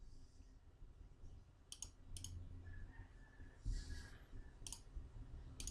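Several sharp mouse clicks on software buttons in a program editor, sounding as isolated crisp ticks in two small pairs and a later single, close and faint over a quiet room hum.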